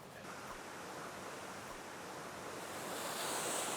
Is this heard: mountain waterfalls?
yes